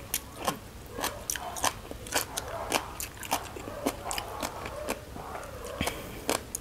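Crunchy eating of very spicy papaya salad made with fifty chillies and snails, close and clear bites and chews with sharp crackling crunches repeating irregularly, no talk.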